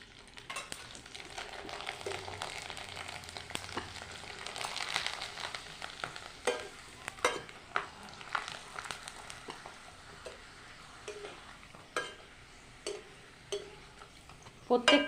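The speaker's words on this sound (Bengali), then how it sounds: "কয়েকটা পাঁপড় আমি ভেজে নেব।" Rice-flour papads fry and stir in hot oil in a home kitchen, a steady low sizzle with scraping and clinks of a utensil against the pan, growing sharper and louder toward the end.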